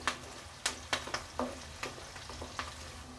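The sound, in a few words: onions frying in pan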